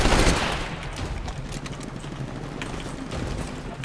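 Rapid gunfire from a gun in the shooter game Titanfall, a dense, steady burst of shots that starts loudest and carries through the whole stretch with no talk over it.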